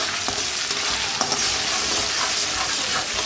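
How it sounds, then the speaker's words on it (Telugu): Ginger paste fries in a pan for a chicken pickle, a dense close sizzle with quick spoon scrapes and stirring clicks over the crackle, no talk. "అల్లం చిన్నగా పేస్ట్ చేసుకొని ఇంకా బాగా వేగేంత వరకు"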